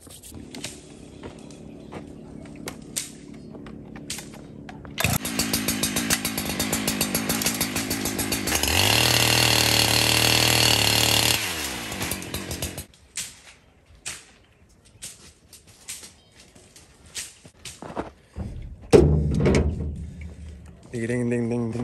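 Video game chainsaws running in a house setting, a loud buzzing roar rising for several seconds amid clattering noises, with a voice talking over parts of it.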